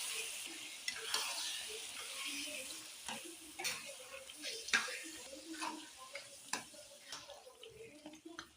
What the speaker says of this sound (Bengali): এবার কচু শাক ঢেলে দেবো, এই ঢেলে দিলাম, নেড়ে দিচ্ছি ভালো করে